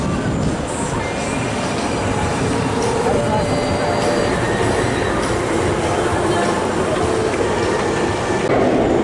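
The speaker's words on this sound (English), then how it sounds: "This is Adventure Express, the park's tubular mine train made by Aerodynamic." A loud, steady rumble of the Adventure Express mine train roller coaster at Kings Island rolling along its track, with continuous rattling and clacking and faint shouts mixed in.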